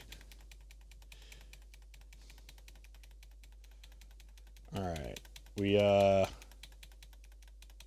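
Rapid clicking of a computer keyboard being typed on, a steady patter of keystrokes throughout, with a person speaking briefly near the end over a low hum.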